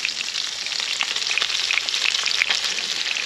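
Salmon fillet frying in a pan, giving an even, continuous hiss of sizzling fat with scattered tiny crackles and pops, close and uninterrupted.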